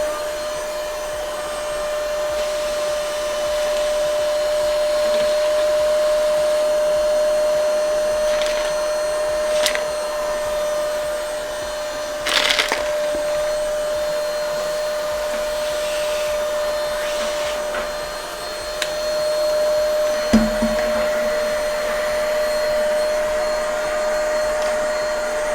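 An Ingco cordless vacuum cleaner runs continuously at close range with a steady whine and airflow roar, plus a few brief knocks and rattles of debris along the way.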